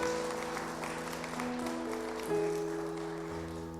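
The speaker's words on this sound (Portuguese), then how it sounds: "Dê uma linda salva de palmas para Ele" A worship congregation applauds during a church sermon, a soft, diffuse patter of many hands clapping, mixed with sustained organ or keyboard tones beneath, fairly distant and steady throughout.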